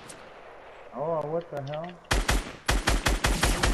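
Rapid bursts of gunfire in the video game Fortnite crack out loud and close, arriving in quick clustered volleys after a startled voice speaks.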